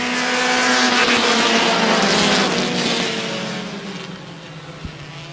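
Dirt modified race cars roaring past at Airborne Speedway in Plattsburgh, New York, a loud sustained engine drone from the pack that gradually fades as the cars move away, with a brief thump near the end.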